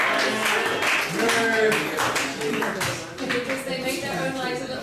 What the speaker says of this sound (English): Just a little round of applause for the note takers.